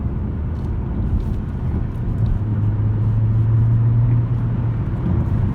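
A Skoda Octavia 1.5 TSI petrol car pulling hard from inside the cabin, its steady engine drone rising into a held, strained tone midway before easing, with road rumble underneath and no talk.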